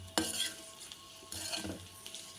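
Salted boiled-egg masala is stirred in a frying pan, a spoon scraping the pan in a few quick strokes over a soft sizzle, close and fairly quiet, with no talking.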